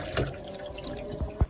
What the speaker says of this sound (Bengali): তো চিংড়ি মাছটা আমি ধুয়ে নিচ্ছি সুন্দর করে।